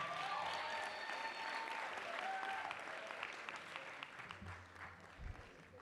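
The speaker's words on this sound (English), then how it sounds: "Can we give them a round of applause," An audience at a school poster competition ceremony applauds the learners, with steady, fairly faint clapping throughout, a few tonal whistles or voices at the start and a low thump near the end.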